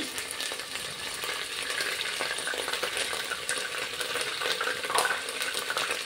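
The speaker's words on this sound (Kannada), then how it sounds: "ಇದರ ಹಸಿ ವಾಸನೆ ಹೋಗೋ ತನಕ ಇದನ್ನು ಹುರ್ಕೊಳ್ಬೇಕು" Ginger garlic paste frying in a pan over medium flame while cooking chicken pulao: a steady, crackling sizzle with dense spitting pops and occasional stirring scrapes, continuous and close throughout, no voices.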